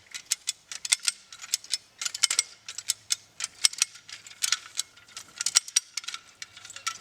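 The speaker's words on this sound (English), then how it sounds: "now we can begin cranking and transfer the tension from the capture winch into the cable winch and the main line" A cable winch is cranked to tension a boulder line, giving a fast, irregular string of close metallic ratchet clicks and ticks.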